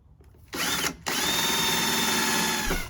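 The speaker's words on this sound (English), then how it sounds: "I'm going to drill a hole to mount it up right there." A power drill whirs up close in two bursts, drilling a hole to mount a fence post camper shower: a short run, a brief pause, then a longer sustained spin before it winds down.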